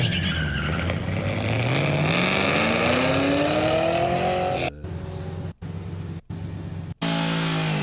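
A car makes a run on a race track. The loud engine climbs in pitch through the gears, then drops out in several abrupt cuts before the roar returns, heard close and steady.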